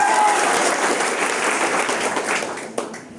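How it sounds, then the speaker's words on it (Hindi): Applause in a classroom lecture setting, dense steady clapping from many people that gradually tapers off, with a voice entering near the end. "मार इसके लिए जोरदार ताली।"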